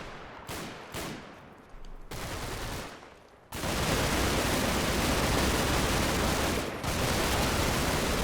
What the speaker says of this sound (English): that's a fair amount of automatic fire going out